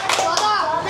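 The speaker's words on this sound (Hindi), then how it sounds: "14 ताली आई।" Classroom children clapping hands in a quick burst of bright, close claps, mixed with young voices talking over them.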